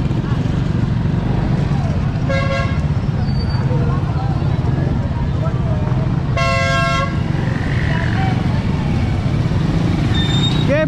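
Car horn on a road in Pangasinan, Philippines, honking in two short bursts over loud traffic and engine rumble, with voices chattering in the background.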